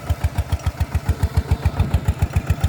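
A Siam-frame farm tractor engine, a single-cylinder-style walking plough unit, chugs loudly and close in a fast, steady, even beat of heavy thumps, with no one speaking.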